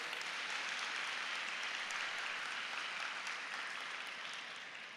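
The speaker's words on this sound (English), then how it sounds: "Round of applause for Nazar's talk again." Steady applause from an audience after a talk at a research week event, a continuous wash of many hands clapping, fairly distant and gradually thinning toward the end.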